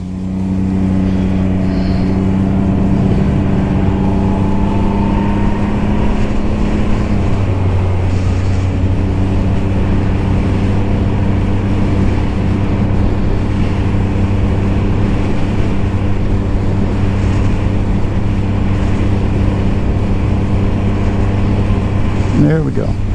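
A 2022 Can-Am Ryker 900 three-wheeled motorcycle is ridden out onto trails, its steady engine drone and wind noise filling the whole stretch, with a rider talking briefly over it.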